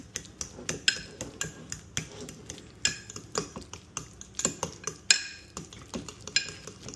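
A utensil mashes butter with garlic and Italian herbs in a bowl, giving irregular clinking and scraping taps that come roughly twice a second, close and fairly quiet with no talk.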